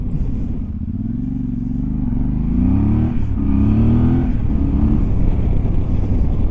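A Voge DS800X Rally adventure motorcycle engine drones and revs up and down while riding off-road, loud and close, with rumbling wind noise and occasional clatter.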